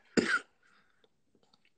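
One sharp, close cough bursts out, then a few faint rustles and clicks in near silence.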